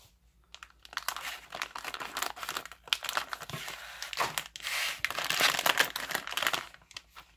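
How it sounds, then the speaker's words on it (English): Close crinkling and snipping of a plastic blind bag being cut with scissors, with irregular crackles and rustles continuing for several seconds. "Scissors."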